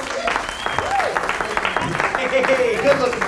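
A comedy club audience applauds as the stage host comes on, steady dense clapping filling the room, with voices talking over it and a few whoops.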